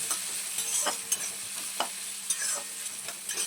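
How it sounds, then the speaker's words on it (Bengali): Chopped capsicum frying in a pan while being stirred, a continuous sizzle broken by repeated scraping strokes of a spatula at an irregular pace, close and fairly loud with no talk. "এবারে আমরা কেটে রাখা ক্যাপসিকামটা দিয়ে দিচ্ছি। ক্যাপসিকামটা ভালো করে একটু ভেজে নেব,"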